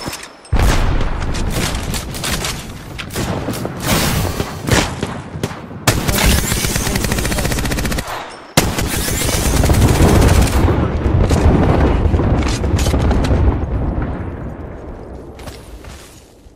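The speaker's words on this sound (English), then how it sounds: "Throwing Arc Star." Apex Legends battle with an Arc Star grenade and gunfire: loud dense bursts of rapid automatic shots, sharp booms and crackling, nearly continuous for about sixteen seconds before tapering off.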